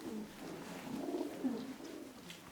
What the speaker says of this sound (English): There's loads of pigeons.